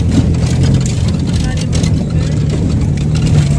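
Car engine heard from inside a moving car, a steady low rumble with road noise, continuous and fairly loud.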